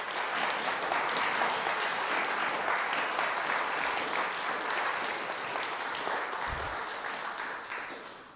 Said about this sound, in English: I would like everyone to just give all of this crew a round of applause